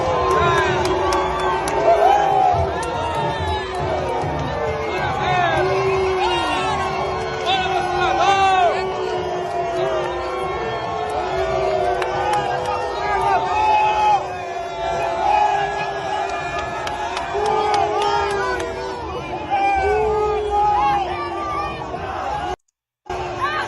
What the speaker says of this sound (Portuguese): E o pessoal foi recebido com vaia